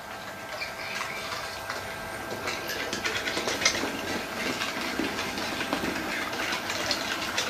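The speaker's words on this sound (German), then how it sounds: "Jetzt die Testfahrt bei mir auf der Anlage. Ich lasse sie mit langsamer Geschwindigkeit einfahren." A Märklin E 63 model electric locomotive on a slow test run around a home layout: a steady low whirring hum with faint rhythmic clicking of wheels over track joints, continuous and close.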